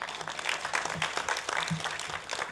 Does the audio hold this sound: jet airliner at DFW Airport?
no